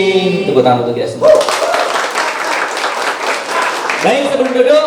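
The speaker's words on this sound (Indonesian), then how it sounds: "Tepuk tangan untuk kita semua." An audience at a training event in Central Lampung bursts into sustained clapping for several seconds. A speaker's voice comes just before and again at the end.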